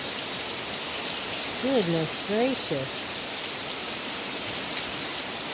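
Heavy rain pours down steadily outside a home, a dense, even hiss that fills the whole stretch, with a person briefly speaking over it.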